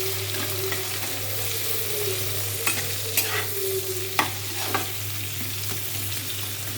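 An egg frying in a pan with salt and turmeric, giving a steady close sizzle with a constant low hum beneath and a few sharp scrapes and taps of a utensil stirring, no voices.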